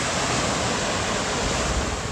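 Large waves breaking on a beach make a loud, continuous roar of surf and rushing water, close by, with no voices.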